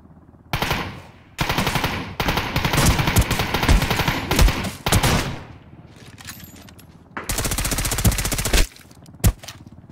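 Automatic gunfire in the shooter game Ring of Elysium, loud rapid bursts of shots in several long volleys separated by quieter gaps, ending with a few isolated single shots.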